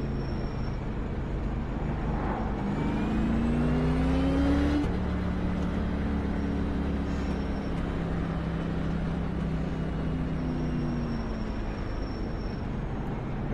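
A NASCAR stock car engine in iRacing at Sonoma drones steadily and loudly throughout, with rising rev sweeps and a sharp gear change near five seconds before it pulls again.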